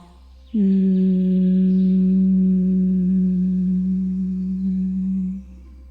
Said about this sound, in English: produce humming bee sound, that is makar, with your closed mouth